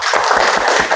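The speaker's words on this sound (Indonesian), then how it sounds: "Tepuk tangan untuk kita semua." Brief burst of applause from a gathered audience at the close of a teacher training session, steady clapping under a high wash of crowd noise with no talk.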